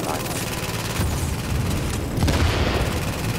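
Grenade blasts in The Division, a loud run of booming detonations with crackling bursts rolling through a dense battle din, several heavy hits spaced across a few seconds.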